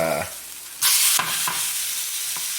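Corned beef sears in a hot pan, with a brief stir, then a loud burst of hissing sizzle that settles into a steady crackling fry with a few softer stirring scrapes.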